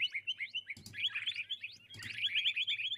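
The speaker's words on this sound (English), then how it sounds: "Next up, we have got a curved billed thrasher." A curve-billed thrasher call from a Minecraft bird mod, rapid high whistled chirps and tweets repeating in quick bursts, with two soft thumps in between, fairly faint.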